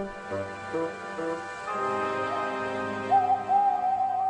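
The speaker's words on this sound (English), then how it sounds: "Whenever that owl hoots, a mist rolls in" A soft, low owl hoot at night sounds over a sustained musical drone, followed by a higher wavering tone near the end.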